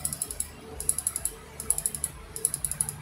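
A new Tecware gaming mouse, fresh from unboxing, clicks its buttons in fast, light, regular runs of close, crisp clicks with brief pauses between bursts.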